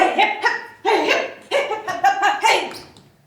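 Sled dogs barking close by in a rapid run of loud yelps and barks, several overlapping, fading out at the end.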